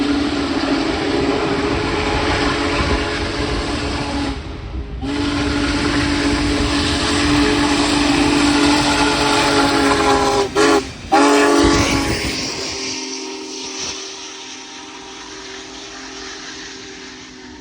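The Big Boy, the largest steam locomotive, thunders through downtown Ohio at track speed, loud and close with a sounding whistle, before the roar cuts away near the end.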